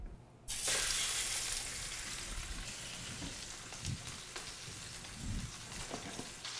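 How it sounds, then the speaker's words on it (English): A dukkah-crusted rack of lamb drops into a smoking hot pan with oil or butter and sets off a sudden loud sizzle. It then settles into a steady crackling sear with small pops, and no one talks. "once your pan starts to smoke, let's throw our lamb on and get a nice sear."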